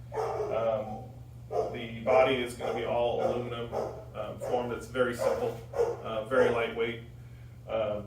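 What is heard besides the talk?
neighbor's dog barking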